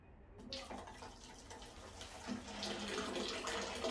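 Water drains from the external tank of a DNA water purifier, a soft, steady trickle and splash that begins after a brief silence and grows slightly fuller.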